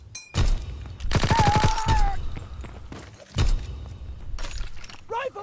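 A gun fires in Call of Duty WW2 with very loud, sharp reports: a single shot, then a rapid burst of repeated shots, then further single cracks among battlefield clatter, with voices talking in between.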